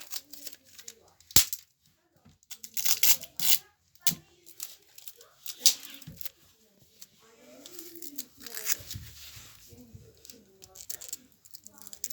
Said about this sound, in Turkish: Sonrasında da diğer bantları alıyoruz.